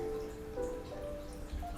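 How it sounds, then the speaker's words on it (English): Steady rain for a sleep-aid product, a soft continuous patter with low rumble and a faint sustained tone underneath, no speech. "The sound of rain helps you to relax."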